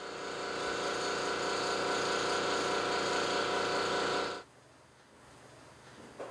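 A loud, steady electric power tool sanding a headlamp on a 2007 car drones with a buzzing pulse for about four seconds, then cuts off abruptly, leaving quiet room noise.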